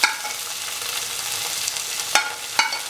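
Turmeric and coriander powder go into a pan of frying tomatoes for aubergine fried rice: an even, close sizzle broken by two sharp metallic stirring taps near the end.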